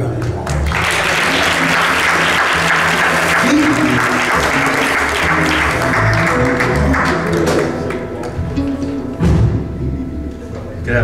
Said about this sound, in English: Let's give God a good round of applause.